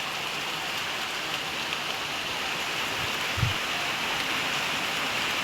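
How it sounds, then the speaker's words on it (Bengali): Heavy rain heard from indoors through a gap in a window, a dense steady roar of falling water with a couple of brief low thumps, constant and close throughout. "অনেক জোরে আসছে বৃষ্টি।"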